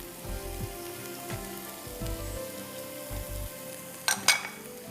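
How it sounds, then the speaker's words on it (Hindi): Beans, capsicum, onion and carrot sautéing in a pan, with a steady near sizzle that swells in short bursts as pieces are stirred or added, ending with a couple of sharper crackling spurts. "सब्जियां डालते जाइए, सौटे करते जाइए।"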